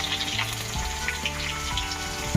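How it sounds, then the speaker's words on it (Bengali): Sliced onions hit hot oil in a home kitchen pan, crackling and sizzling loudly and continuously at close range, with faint background music and no speech. "এই যে দেখেন পেঁয়াজ দিয়ে দিচ্ছি"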